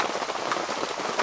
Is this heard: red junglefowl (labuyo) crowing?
no